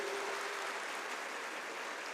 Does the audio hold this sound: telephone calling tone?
no